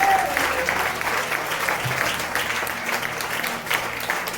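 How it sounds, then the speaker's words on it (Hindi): A church congregation at a Hindi-language Christian service claps loudly and steadily together, a dense wash of many hands filling the hall with no pause. "जोर से ताली बजा।"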